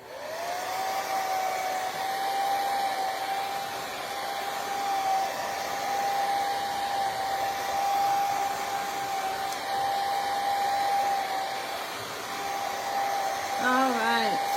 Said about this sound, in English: I'm gonna give it one more shot with the dryer.